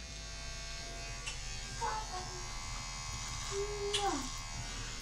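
A cordless zero-gapped hair trimmer and edger hums steadily and buzzes while cutting hair, held close and continuous beneath someone talking.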